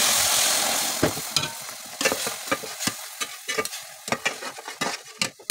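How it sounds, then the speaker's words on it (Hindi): Fresh coconut halwa is stirred and roasted in desi ghee with a soft continuous sizzle, while uneven scraping strokes of the spoon sound up close every half second or so. "और साथ इसको चलाते जाएंगे बस थोड़ी देर इसको भूनना है"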